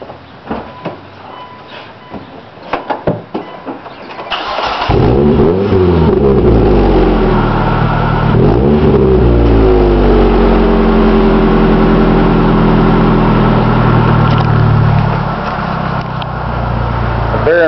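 A fuel-injected 2-liter automatic car engine with a 5-speed catches after a few brief attempts, then revs up and settles into a loud, steady run close by with swelling rises in pitch.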